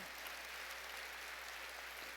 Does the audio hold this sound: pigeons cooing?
no